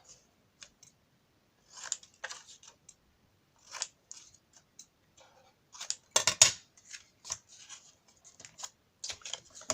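Scissors cut through material at close range in short irregular snips and clicks, separated by brief silences, with a quick burst of several cuts near the middle.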